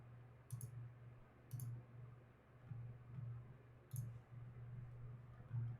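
Sharp mouse clicks, several spaced a second or so apart, near and faint over a steady low hum.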